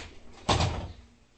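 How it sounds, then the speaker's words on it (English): A door being opened indoors during a sibling play-fight, a single loud thump or bang near mid-clip over a quiet room, then fading to low background. "yeah, I'm gonna open back the door."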